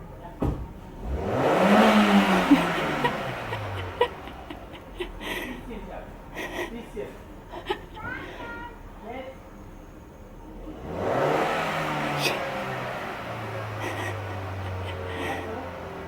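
A car engine revs up twice after a jump-start, two rising and falling surges several seconds apart, with an idle between them and quiet voices nearby.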